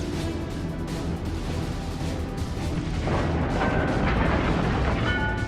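Heavy naval gunfire from battleships in the World of Warships game, deep booming salvos rolling under a continuous rumble, with a louder burst of blasts building in the second half.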